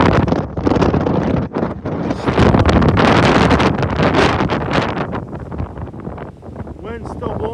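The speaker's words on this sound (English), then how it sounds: "Wind's still blowing, and now it's blowing inshore." Strong hurricane wind blows inshore on the Florida coast, a loud, continuous roar buffeting the microphone in gusts, with a voice speaking over it.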